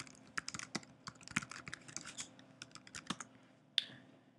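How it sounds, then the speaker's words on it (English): Quick, irregular typing on a computer keyboard close by, soft key clicks in bursts with a louder final keystroke in a quiet room. "I will log into PhysioMIMI by typing in the address."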